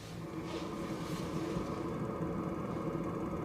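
A caravan heater running steadily gives a continuous low rumble and hum with an airy rush from the vent, close and even throughout, with no speech.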